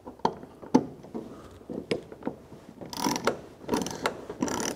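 Bolts on a Thule Xsporter Pro adjustable-height truck bed ladder rack are tightened with a 7/32 Allen head bit: scattered mechanical clicks and ratcheting taps, then denser bursts of close, grinding ratchet noise toward the end.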